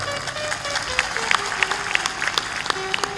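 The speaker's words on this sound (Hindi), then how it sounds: "जोर से ताली बजाया करो।" An audience at a Hindi religious discourse claps loudly, a dense patter of many hands mixed with a few voices and a faint tonal melody underneath.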